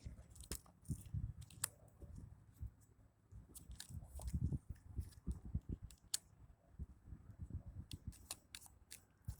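Tarot cards being shuffled close up, a soft run of papery riffles, taps and clicks in irregular bursts, quiet and steady, with no talk over it.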